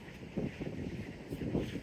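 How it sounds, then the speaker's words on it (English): Gusty wind on a beach buffets the microphone, producing a continuous low rumbling roar with a couple of stronger surges, close and moderately loud, with no talking. "There's no sense in deafening you guys with this breeze."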